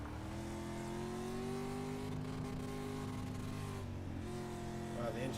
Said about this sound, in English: Wow, the engine sounds a little too low now.